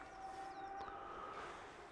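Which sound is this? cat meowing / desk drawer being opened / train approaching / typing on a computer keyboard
train approaching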